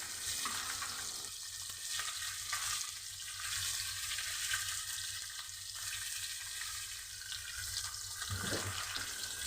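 Tilapia fish frying in a pan without a non-stick coating, a steady, loud, continuous sizzle and crackle of hot oil running throughout with no talking.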